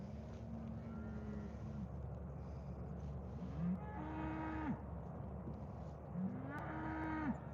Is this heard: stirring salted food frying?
no